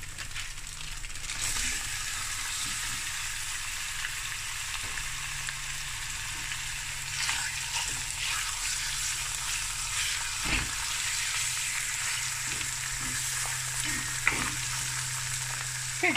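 Beef browns in a pot for brown stew, giving a steady close sizzle with occasional light stirring scrapes and a sharp knock now and then, no voices over it.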